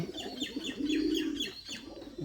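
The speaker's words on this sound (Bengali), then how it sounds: "দেখুন সুন্দরভাবে ডাকে কবুতর" Bombay pigeons coo close by, repeated throaty rolling calls with a rising and falling rhythm, clear and fairly loud with light chirps mixed in.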